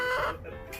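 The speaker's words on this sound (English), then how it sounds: "chickens are a little disturbed right now because there's renovations going on in the chicken pen." Chickens in a coop whose pen is under renovation give a short, close burst of clucking, loud at first and then easing off, with no talk.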